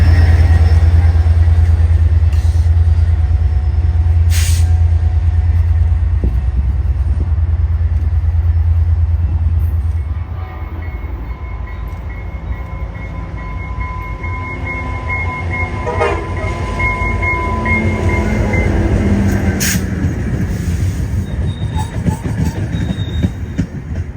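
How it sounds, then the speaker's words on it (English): Two Trinity Railway Express commuter trains hauled by F59PH diesel locomotives meet just east of a station on a hot, humid summer afternoon, a loud low engine rumble easing into rolling wheel and rail noise with squeals and brief horn-like tones. "Trains 3920 and 3923 meet just to the east of the station"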